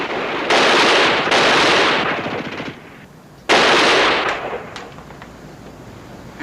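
Sustained machine-gun bursts in a 1963 war drama series, loud rapid rattling volleys in three long strings with brief gaps, close and dominant, trailing into fading echoes.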